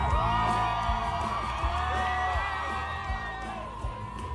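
Tens of thousands of festival fans at the Osheaga concert whoop and cheer in a dense, sustained roar, with shouts and yells rising above a steady bed of crowd noise and music.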